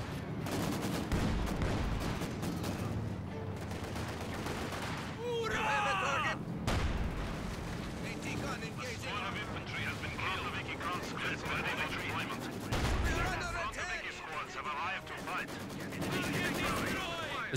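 An artillery barrage in Company of Heroes 2 brings repeated heavy booms and gunfire crackling over dense battlefield noise, with a voice talking over much of it.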